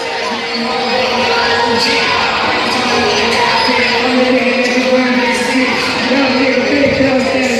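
A big arena crowd at a live boxing event roars and cheers for a boxer, loud sustained cheering with whoops and shouts rising and falling, an announcer's voice over it.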